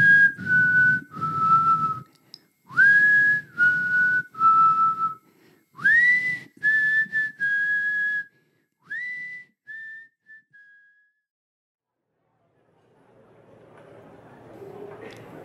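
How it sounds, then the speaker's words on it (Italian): A man softly whistles the nursery tune Three Blind Mice, a series of clear, sustained whistled notes in short phrases, close and alone, fading into quiet with faint rustling at the end. "prese a fischiettare a bassa voce, e il motivo che fischiettava era Three Blind Mice."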